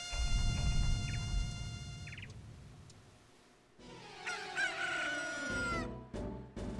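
A cuckoo, the chicken-like bird in the video game Majora's Mask, crows loudly in a rising, warbling call over a low rumbling background, followed by a second fainter crow.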